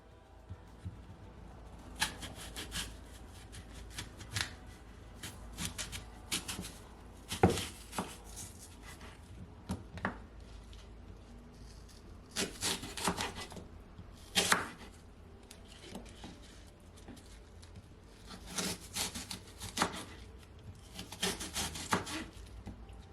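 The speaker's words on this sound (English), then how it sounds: "So now I'm about to cut my apple." A knife cuts through an apple for juice, with irregular bursts of crisp slicing and scraping against a board, close and fairly quiet, separated by short pauses.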